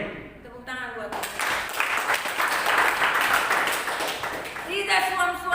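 A church congregation breaks into loud, sustained applause that lasts several seconds, with a preacher's voice speaking just before it starts and again as it fades.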